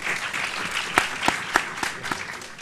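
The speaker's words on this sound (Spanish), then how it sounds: "Vamos a aplaudirlo, ¿sí?" An audience applauds a guest professor and psychologist introduced at a public-policy panel on citizen insecurity, steady clapping of a moderate crowd with a few sharper claps standing out, no voices.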